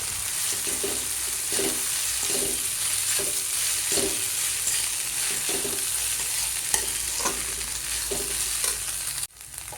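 Poha with onions frying in a hot pan while being stirred, steady sizzle throughout with a regular scraping rhythm of the spoon roughly every second, close and fairly loud, no talking.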